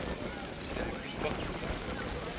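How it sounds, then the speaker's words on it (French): Steady wind buffets the microphone outdoors in Japan in a continuous low roar, with no clear voices standing out. "Il y a beaucoup de vent."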